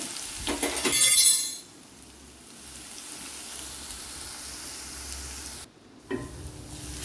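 A sizzling pan of vanpayar mezhukkupuratti mixture with a crushed spice mix just added, clinking stirs and a bright burst early on, then a steady lower fry, a brief pause and renewed scraping near the end.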